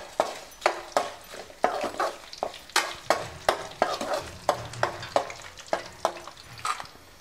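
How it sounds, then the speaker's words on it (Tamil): Dried red chillies and curry leaves fry in hot oil for lemon rice, with a steady sizzle under regular, rhythmic stirring scrapes of a spoon in the pan. "இப்போ இந்த ஸ்டேஜில் வந்து வரமிளகா இதில் போட்டுடலாம்."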